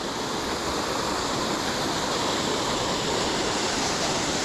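Davidson's Linn waterfall pours in a steady, loud, broadband roar of rushing water, heard close up and unbroken, with no voices.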